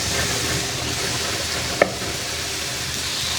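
Ridge gourd is stirred into frying masala for a village-style prawn curry, producing a steady, even sizzle throughout with one brief clink of a utensil midway.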